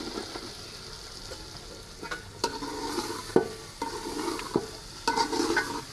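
Vegetables frying in a pan of prepared masala, stirred with a spoon: a steady sizzle carrying repeated scraping clatters that grow busier toward the end, close and fairly loud with no talking.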